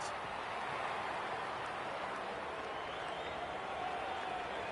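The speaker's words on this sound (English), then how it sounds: "The crowd noise tells you all you need to know." Steady roar of a stadium crowd at an AFL Gather Round game between Adelaide and Essendon, a broad continuous wash of noise with no breaks, heard from a distance throughout.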